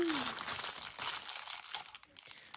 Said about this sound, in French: Donc on va déballer ça